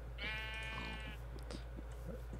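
A sheep in a video game gives one close, quavering bleat lasting about a second, followed by soft scattered clicks over a steady low hum.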